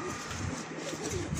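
Pigeons coo softly in a brief, continuous murmur of low, rolling calls, close by, with a faint background hiss and no talk.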